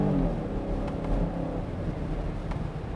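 A 2022 Kia Carnival high-roof van with an 8-speed automatic accelerates, its engine giving a steady low rumbling drone from inside the cabin, continuous and moderately loud with no talk.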